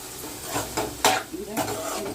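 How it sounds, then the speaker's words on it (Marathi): A spoon scrapes and stirs Malvani-style goat mutton curry in a pot, with a few sharp strokes over a soft simmering sizzle. "मस्त ढवळून घेऊन झाकण मारून शिजत ठेवायचा"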